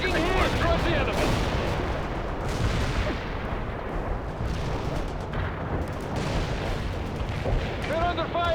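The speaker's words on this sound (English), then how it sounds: "Heavy artillery strike fire." Heavy artillery strike pounding a battlefield in the real-time strategy game World in Conflict, a dense, continuous roar of loud blasts and rumbling impacts with scattered gunfire and brief radio-style voices over the din.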